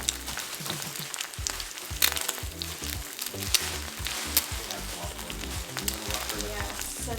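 Steady crackling sizzle of an egg frying in a small pan, with a few louder pops and a low scraping rhythm underneath.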